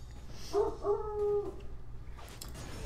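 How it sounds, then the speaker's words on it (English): Dogs give a few short, whining, howl-like barks in quick succession, fairly close, over a low background hum. "My dogs are going crazy."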